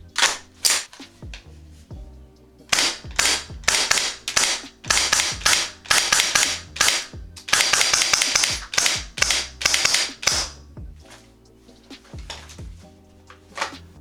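Rapid bursts of full-auto fire from a GHK AUG gas blowback airsoft rifle, clattering in several strings of quick sharp cracks with short pauses between, over steady background music.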